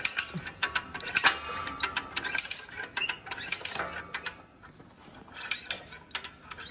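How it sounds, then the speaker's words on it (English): A ratchet wrench on a Gleaner R72 combine final drive clicks in rapid bursts of metallic pawl ticks while working a big jam nut loose, close and fairly faint, with a short pause before more ratcheting and no speech. "got to break that big jam nut loose"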